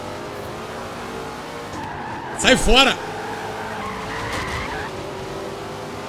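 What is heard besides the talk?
Dodge Dart car skidding in the video game Forza Horizon 4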